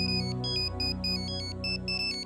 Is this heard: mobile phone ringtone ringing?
yes